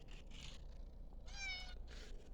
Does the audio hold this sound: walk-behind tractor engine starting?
no